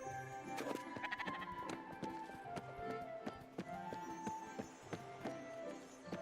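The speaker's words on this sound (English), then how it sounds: "I hear you, sheep." Sheep in the video game Spiritfarer bleat repeatedly over steady game music with rhythmic clip-clop footsteps, moderately loud and without talk.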